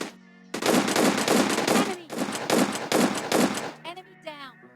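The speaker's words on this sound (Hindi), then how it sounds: "मैंने कतई 8 गोलियां S12 के की उड़ा दी" Rapid, heavy S12K shotgun blasts from a PUBG-style video game crack in quick bursts at close range, several in a row with short gaps, followed by a brief synthetic tone.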